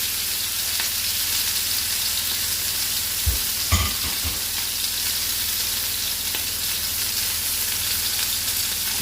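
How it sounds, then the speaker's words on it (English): Steak sizzling steadily in a hot pan, a loud continuous frying hiss throughout, with a few brief knocks and clatters near the middle. "I'm going to put the steak in. That's the sound you want to hear."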